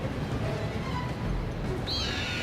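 Loftwing birds in the Zelda Skyward Sword video game, heard as a single shrill, wavering cry near the end over dense, busy game sound.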